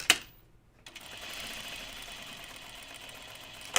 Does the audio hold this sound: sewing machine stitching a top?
yes